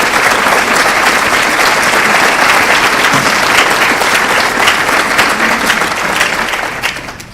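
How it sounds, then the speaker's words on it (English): Sustained, dense applause fills a Hall of Fame banquet hall as the audience stands for past inductees, loud and continuous for several seconds before tapering off at the end. "let's give them a warm round of applause"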